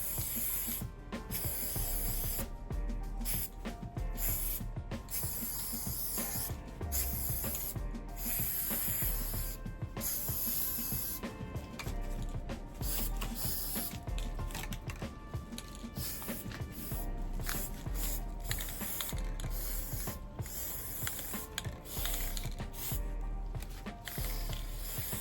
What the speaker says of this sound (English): so we're gonna shake this up, and then I'm gonna spray it.